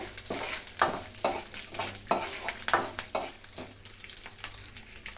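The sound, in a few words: tempering frying in oil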